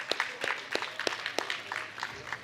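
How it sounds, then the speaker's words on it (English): Audience clapping at a national science camp's valedictory and prize distribution ceremony, a steady patter of many hands close up and moderately loud, with no talking. "Give them a very big round of applause for this event"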